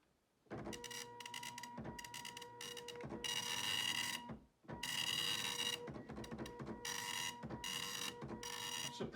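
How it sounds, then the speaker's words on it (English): A dot matrix printer hooked to a 40-year-old Apple Mac prints, close and loud, in long rasping bursts of rapid needle strikes with a brief pause between lines, alone without talk. "Anybody remember the sound of the dot matrix printers?"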